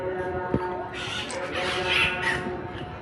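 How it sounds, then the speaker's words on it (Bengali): Macaws in a large zoo aviary give loud, harsh screeches in a couple of overlapping bursts against a steady background hum from the crowd. "এখানে মিকাও নামক কয়েক ধরনের পাখি ছিল। পাখিগুলো অনেক জোরে চেঁচামেচি করছিল।"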